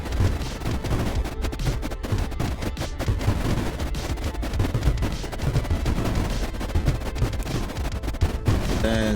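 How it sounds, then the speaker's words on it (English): Rapid volleys of missile launches and impacts in the strategy game Creeper World IXE, a steady loud crackling barrage of bangs with no pause. "Missiles going through."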